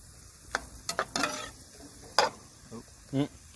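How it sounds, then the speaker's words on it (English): Vegetables, including bell peppers, sizzle in a hot pan while a utensil stirs them, producing a few distinct scraping bursts over a steady low hiss. "Just listen to that sizzle."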